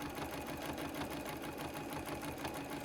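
Sewing machine stitching during free motion quilting, a fast steady mechanical whir with rapid needle ticking, close and continuous with no talk.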